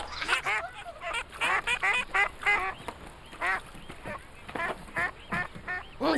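Cartoon ducks quack in a rapid run of loud, close calls with short pauses between them.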